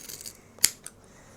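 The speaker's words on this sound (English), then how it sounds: "with scissors," Scissors snip through fabric scraps being trimmed into strips for craft tape, giving one sharp close cut followed by a fainter second snip in a quiet room.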